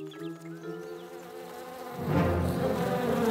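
Cartoon bees buzz in a busy swarm, a thin drone at first that swells into a louder, fuller hum for the last second and a half, with no talking.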